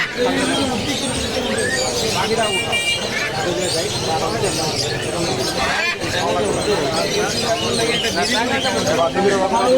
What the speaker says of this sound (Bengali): অনেক পাখি জমে উঠেছে একটা পাখির হাট মিরপুর 1 নম্বরে